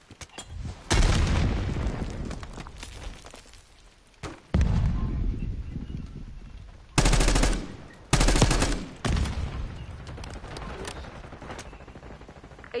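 Gunfire in a Black Ops 6 multiplayer match: several loud bursts of automatic fire and booming blasts, each a second or two long and separated by quieter gaps, with faint background noise.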